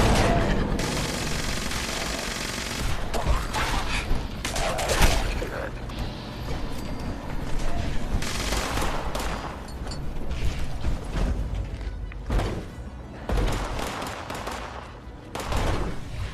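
Dense, continuous gunfire from the game Fallout 76 fills the whole stretch: rapid automatic bursts and booming impacts layered over one another at steady high volume, with no clear pauses.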